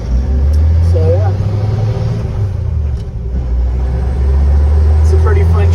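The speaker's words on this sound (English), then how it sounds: "it's a pretty fun truck to ride in" A 1954 Ford F100 pickup truck cruises with a low, steady engine rumble and road noise inside the cab, continuous throughout with faint higher whines drifting in.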